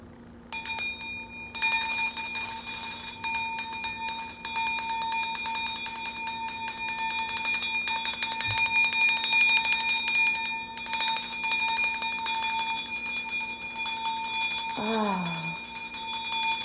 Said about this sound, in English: Start with the bell.